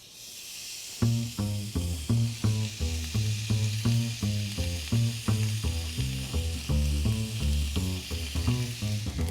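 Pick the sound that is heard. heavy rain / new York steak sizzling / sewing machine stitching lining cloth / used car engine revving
new York steak sizzling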